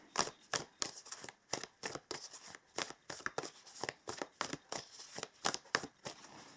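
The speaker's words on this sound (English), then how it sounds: "let us now pull some oracle cards" A deck of oracle cards is shuffled over and over, giving quick papery riffles and snaps in a steady rhythm. The sound is close but quiet, with no talking.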